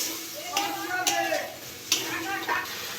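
Spice mix of turmeric, chilli and coriander powder stir-fried in a pan, a soft sizzle under a few distinct spatula taps and scrapes spaced through the moment.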